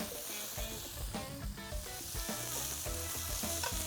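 Fatty meat sizzles and crackles in a cast iron pan at a camp cookout, a close, busy frying hiss with scattered pops and stirring scrapes.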